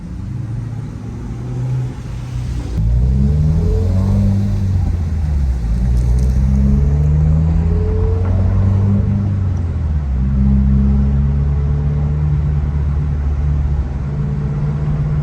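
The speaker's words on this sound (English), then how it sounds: "That is one thing I love about the Axleback, is how loud the pops are." A 2020 Subaru WRX with an axle-back exhaust revs while parked, its loud engine note rising and falling in repeated pulls with sharp exhaust pops between them, close and steady throughout.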